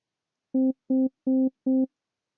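Four short, identical synth tones pulse evenly with a slightly buzzy, rounded timbre, then silence.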